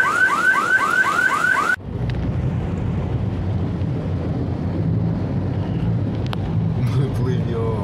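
A car alarm wails with a rapid repeating siren pattern for under two seconds, loud and close, then cuts off abruptly, leaving a steady low rumble of wind and water noise.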